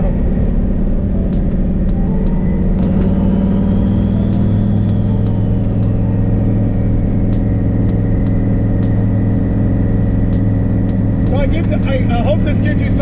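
A car fitted with a faceplated T56 Magnum transmission drives on a street, its engine a steady loud low drone with a slowly rising whine, and a voice speaks over it.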